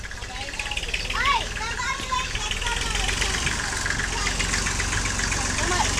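A farm tractor engine idles with a steady low rumble throughout, while people talk over it nearby.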